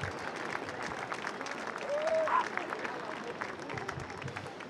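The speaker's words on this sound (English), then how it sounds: "So big round of applause for all the people that support this" Beachside crowd at the EDP Billabong Pro Cascais surf contest applauds, a soft, distant patter of clapping with a faint crowd murmur underneath and a brief swell in the middle.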